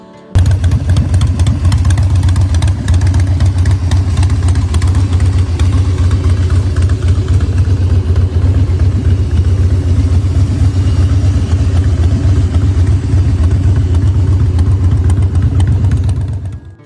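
A 2000 Harley-Davidson Dyna FXD V-twin idles steadily for about sixteen seconds, a loud, close, low lumpy rumble with mechanical clatter, cutting off at the end, with no talking.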